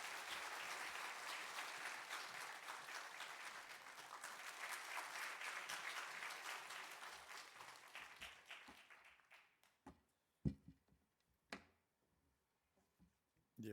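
A church congregation claps to welcome their pastor, a full room of steady applause for about eight seconds that thins and fades out, leaving a few scattered claps and small knocks in the quiet that follows.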